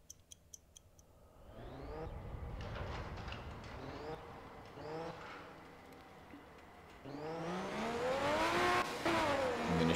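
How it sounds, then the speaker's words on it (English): A supercharged car in the racing game Night Runners accelerates hard, its engine rising in pitch through several gear changes with a whining supercharger, loud and close, building to a sustained high-revving roar. "You can actually hear the supercharger if you listen"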